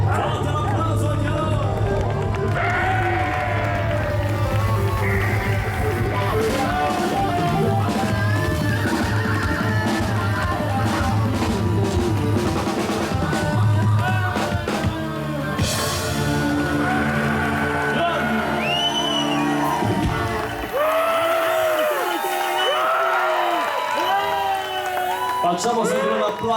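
A festival crowd at Sant'Andrea di Campodarsego's wine feast claps and cheers loudly and steadily, with an announcer talking over the sustained applause and an orchestra's music mixed in.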